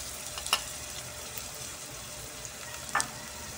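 White onions sauté in hot oil for Bicol Express, a soft steady sizzle with a couple of brief louder crackles and utensil stirs, fairly quiet and with no voices.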